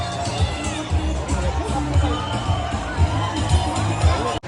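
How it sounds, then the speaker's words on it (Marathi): Large, dense crowd of people at a busy outing, a constant loud murmur of many overlapping voices and movement close around, with nearer speech mixed in. "आहे लय डेंजर गर्दी आहे आज."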